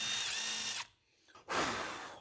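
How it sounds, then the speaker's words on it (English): A power drill with a self-centering bit pre-drills pilot holes in wood for a workbench, two loud whining bursts near at hand separated by a brief pause. "used a self-centering drill bit to pre-drill the holes"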